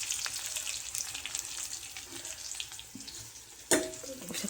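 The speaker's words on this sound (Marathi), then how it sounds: "आता टाकते मस्त कढीपत्ता आणि मग आपला हे ठेचलेला लसूण टाकायचा" Curry leaves and crushed garlic crackle in a hot tempering for a dal amti. Close, steady frying fizz carries throughout, with a sharp louder burst near the end as more goes into the oil.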